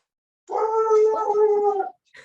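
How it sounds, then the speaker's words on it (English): A pet dog lets out a loud, drawn-out vocalization lasting over a second, more of a howl or whining bark than short sharp barks, followed by a brief quieter sound; the dog is close and alone, with no talk. "He only barks for like 3 seconds at a time, but when he does, it's so loud"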